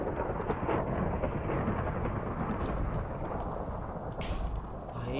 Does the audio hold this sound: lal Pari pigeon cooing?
no